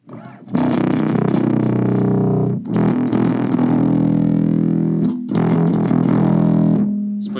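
A bass guitar runs through a Hotone Ampero Mini with heavy compression, giving three long, thick, distorted sustained notes with abrupt attacks, loud and close, and no voice.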